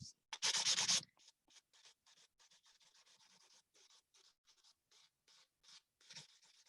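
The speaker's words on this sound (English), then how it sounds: "Finish smoothing some of those scratch marks out with our 180." A 180-grit nail file smoothing hard gel nails: a loud close rasping burst, then a quick run of short soft scratchy strokes in steady rhythm, with nothing else heard.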